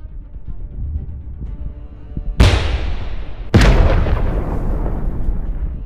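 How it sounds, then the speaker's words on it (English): A Ukrainian Abrams tank's cannon fire and the direct-hit explosion on a Russian tank come as two loud, sharp booms about a second apart over a low engine rumble, each followed by a long, decaying roar. "In response, the Ukrainian tank fires back and scores a direct hit"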